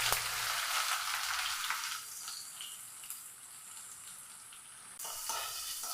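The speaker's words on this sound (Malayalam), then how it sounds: "നല്ലപോലെ ഒന്ന് വഴറ്റി" Curry leaves and mustard seeds sautéing in hot oil in a pan, a steady close sizzle and crackle, fairly faint, that eases slightly midway before flaring again.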